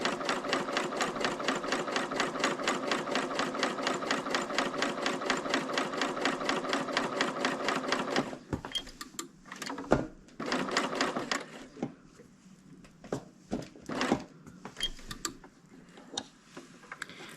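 A Bernina serger runs at a steady fast stitching rhythm for about eight seconds, close and loud, then stops into a stretch of scattered handling clicks and knocks.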